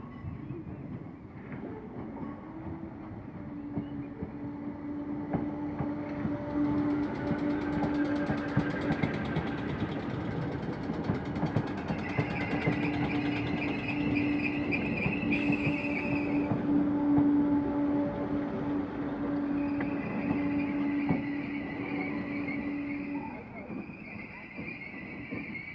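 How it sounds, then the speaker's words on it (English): Train passing through Chester station with squealing brakes, a sustained high-pitched whine and screech riding over steady rumbling wheel noise for most of the clip, fairly close and loud, with a voice talking beneath it. "that train has got some dodgy brakes on it. Could do with some oiling."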